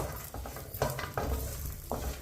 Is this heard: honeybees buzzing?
no